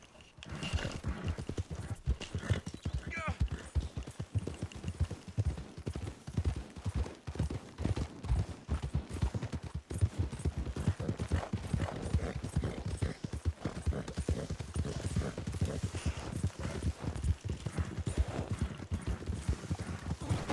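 Hooves clip-clop in a fast, steady galloping rhythm as a horse is ridden in Red Dead Redemption, loud and continuous throughout, with a brief whinny early on.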